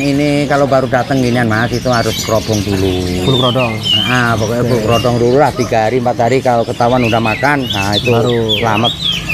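Caged songbirds, including ciblek, chirp and whistle at a bird market, their bright repeated calls running under a close, ongoing conversation between men.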